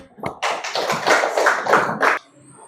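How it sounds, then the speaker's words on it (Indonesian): Audience clapping after a call for applause during an Indonesian church teaching session, with a burst of close, fairly loud claps lasting about two seconds, then stopping abruptly. "Tepuk tangan untuk Yohana."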